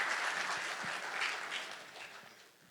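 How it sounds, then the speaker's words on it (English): An audience at a college business showcase applauds steadily for a few seconds, the clapping moderately distant and fading toward the end. "let's give him a round of applause for emceeing tonight"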